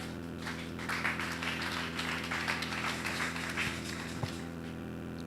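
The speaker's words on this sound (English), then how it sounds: "Don't you clap for what I just said?" A church congregation claps during a sermon, a loose, moderately quiet patter of many hands lasting a few seconds over a low background hum before thinning out.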